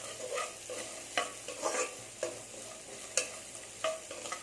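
Coconut pieces frying in ghee, a soft steady sizzle broken by sharp scraping strokes every second or so as a spoon stirs them, close and fairly quiet, for a green gram payasam.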